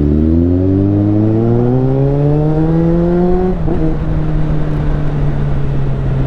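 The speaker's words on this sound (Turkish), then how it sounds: "Yani benim egzoz sesim onunkini bastırıyor açıkçası." A motorcycle with an aftermarket exhaust revs up steadily, its rising whine climbing in pitch before dropping sharply to a steady drone, loud and close throughout.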